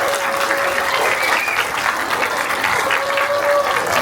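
A theater audience at a Santa Ana Q&A with actor Keith Coogan breaks into loud, sustained applause, dense steady clapping filling the room, with faint whistles mixed in.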